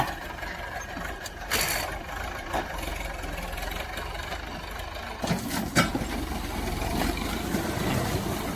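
A farm tractor fitted with a disc plow rumbles at steady idle while reshaping rice paddy embankments into raised field beds, its engine droning close and continuous, with a few louder surges.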